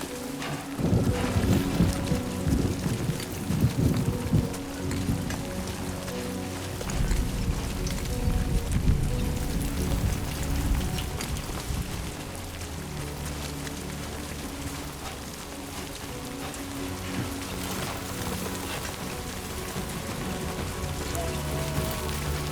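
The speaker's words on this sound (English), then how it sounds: "Rain. Gotta move." Rain falls in the video game Death Stranding 2, a continuous soft patter and hiss on surfaces, heavier at first and then easing into a steady wash with low rumbling and tonal game sounds underneath.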